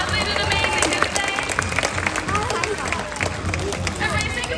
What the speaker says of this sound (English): let's give them a nice big round of applause